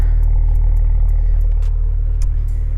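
A BMW E90's exhaust, fitted with a resonator muffler and Dinan mufflers, holds a deep, steady idle rumble, close and even with no revving.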